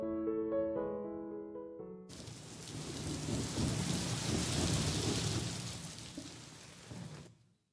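Heavy rain with rolling thunder on a cold morning at a hill station, a dense broadband roar that swells and sustains before cutting off abruptly, following a short passage of soft music.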